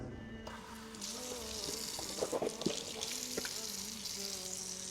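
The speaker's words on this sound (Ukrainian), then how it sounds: "Далі промиваємо рот та ніс." Tap water runs steadily into a sink during ritual ablution as the mouth and nose are rinsed, a continuous splashing hiss with a few brief louder splashes midway, close by and alone.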